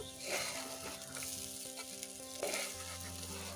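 Food crackles and sizzles steadily in a hot pan while making vegetarian matar pulao, close up, with occasional stirring scrapes over the continuous frying hiss.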